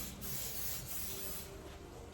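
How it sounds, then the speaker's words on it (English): Cooking spray hisses onto a small pan in a steady aerosol burst for about two seconds, close but fairly soft, with no voices. "just a little bit of pan spray."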